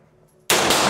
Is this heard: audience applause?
no